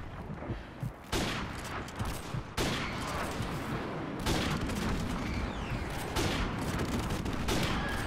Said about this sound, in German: nach dem 15. Schuss endlich mal ein Treffer.